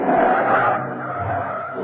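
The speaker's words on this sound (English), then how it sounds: "The taxi, which was facing northwest, suddenly prescribes a half circle in the road, skidding violently." A taxi skids violently through a half circle on the road, tyres squealing loudly in a sustained screech that fades slightly toward the end, staged as a radio drama effect.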